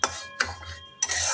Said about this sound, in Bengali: আর একটু মুগ ডাল ভেজে নিচ্ছি